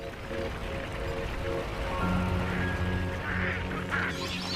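Migrating birds in southern Africa call with quacking, duck-like notes over a steady wash of water or rain noise, with a few sustained tonal cries rising through the middle.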